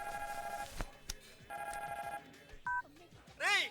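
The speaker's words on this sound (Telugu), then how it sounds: "ఫోన్ రింగ్ అవుతోంది" Telephone ringing in a quiet indoor scene, a soft repeated ring pattern with short gaps, faint and somewhat distant, with a few brief background noises and no clear talk.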